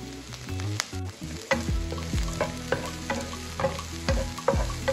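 Chopped garlic, small shallots and curry leaves frying in oil in a pan for Kerala beef roast, giving a continuous close sizzle broken by frequent clattering spatula stirs, with no voices.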